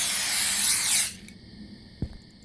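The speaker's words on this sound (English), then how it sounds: "I'm gonna need that rodent repellent disappearance spray." Rodent repellent spray in a convenience store horror game gives a loud, sustained hiss lasting about a second, then stops abruptly, followed by a soft thump and a faint electronic tone.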